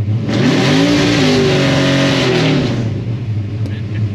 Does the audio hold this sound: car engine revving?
yes